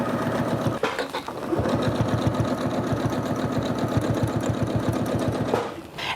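A sewing machine quilting a fan pattern runs in a fast, steady, rhythmic stitching patter for about five seconds, close and clear, with brief pauses at the start and end.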